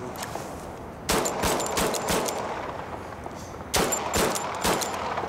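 Bursts of rapid gunfire crack at a shooting range, two dense volleys of shots a few seconds apart, sharp and fairly close against a quiet background.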